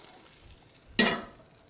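A single short scrape of burnt food being cleared from a frying pan, a brief rasping burst at close range that fades quickly into quiet.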